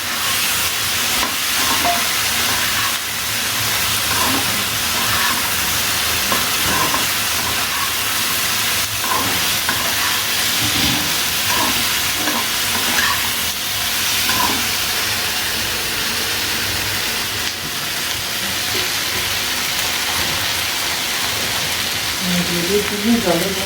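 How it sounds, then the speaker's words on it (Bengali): Corn pakoras for corn manchurian fry and get stirred in a pan, making a loud, continuous steamy hiss with faint scraping and occasional voices in the background. "এটা নাড়াচাড়া করি। পকোড়াগুলো দিয়েছিলাম।"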